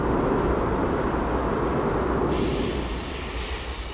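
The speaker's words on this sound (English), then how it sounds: "Cracks in the crater walls, known as fumaroles, blow hot gas like a jet engine" Volcanic fumaroles in the crater walls of White Island blow hot gas with a loud, continuous jet-like roar, a broad steady rushing that shifts in tone partway through.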